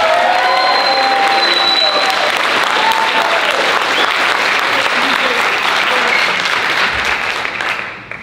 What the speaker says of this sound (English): Let's give a big round of applause to all of these student athletes.